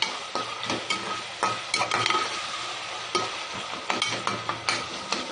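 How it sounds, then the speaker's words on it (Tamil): Tomatoes and green chillies for Tamil mutton kuzhambu being sautéed in a pan, a continuous sizzle broken by repeated close spoon scrapes and light clinks of the utensil against the pan. "தக்காளி நல்லா வதக்கிப்போம்."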